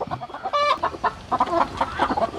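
Native country chickens cluck in short, repeated bursts close by, a busy run of fowl calls with one higher drawn-out squawk among them.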